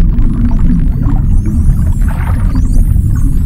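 Bottlenose dolphins underwater: thin, high, sweeping whistles and faint click trains rise over a loud, constant low rumble of water.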